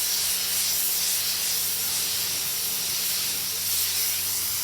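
A spray gun lays candy paint coats over metalflake on a lowrider panel, giving a continuous close, steady airy hiss with slight swells as passes are made.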